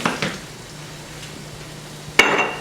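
White wine poured into a pan of browning beef hits with a sudden loud sizzling burst near the end, after a quieter stretch of low pan hiss and a few faint clinks.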